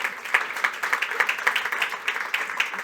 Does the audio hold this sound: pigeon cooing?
no